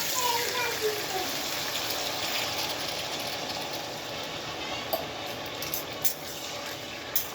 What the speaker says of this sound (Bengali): আমি জল দিয়েছি, আর একটু জল দেব।